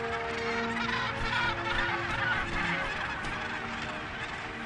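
A dense crowd of gannets at a crowded island breeding colony keeps up a continuous chorus of harsh, overlapping calls, loud and near, with no talking.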